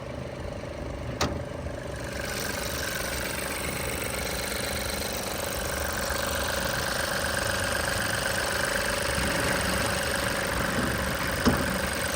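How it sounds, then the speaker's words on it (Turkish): A Skoda Kamiq with a 1.0 TSI three-cylinder engine idles with the hood open, a steady, even mechanical hum with faint vibration throughout, and a couple of brief clicks. "Motor bu şekilde. Yani titreşim var. 3 silindirli bir araba."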